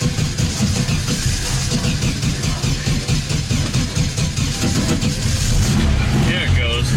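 A VW Beetle engine catches and runs after an ignition switch replacement, its carburetor already primed with fuel. It is a loud, close, steady mid-pitched engine note that holds for about seven seconds.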